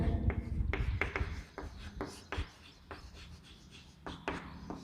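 Pen strokes scratch across paper while a teacher writes out a set in roster form, a run of short quick scribbles with small pauses, close and fairly quiet, with no talk.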